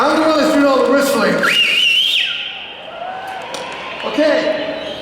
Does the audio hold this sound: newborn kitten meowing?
no